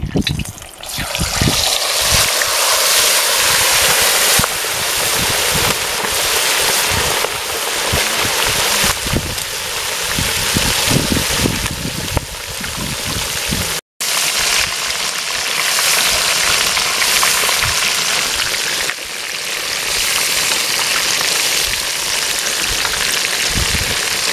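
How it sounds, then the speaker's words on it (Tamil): A whole marinated chicken deep fries in oil, a constant loud crackling and sizzling hiss with bursts of bubbling, heard close up throughout with a brief dropout midway. "அப்படியே எண்ணெயில் போட்டு பொரிச்சு எடுக்கலாம்."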